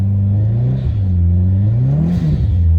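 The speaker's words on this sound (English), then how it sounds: "So a little e-brake, get the donut started, and then just modulate the throttle." A Subaru all-wheel drive car revving hard into a winter donut on snow, a loud continuous engine drone rising and falling in pitch as the throttle is modulated, up close with no talk.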